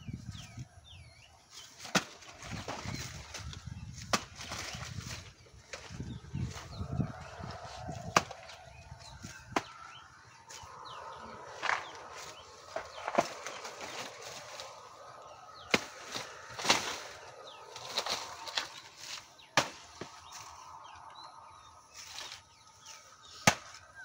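A knife chops through a bunch of local Bangladeshi bananas with repeated sharp, irregular cuts and thuds. Rustling and handling sounds run between the cuts, all fairly close and with no talking.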